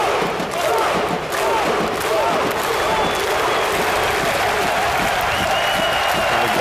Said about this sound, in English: Usually it's like people cheering and stuff.